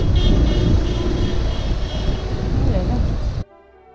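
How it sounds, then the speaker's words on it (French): Busy city traffic rolls past a cyclist with a dense, loud wash of engine noise and road rumble, plus higher tonal hints that could be horns, cutting off abruptly near the end. "tous ces klaxons, ces bruits des moteurs et tout ça"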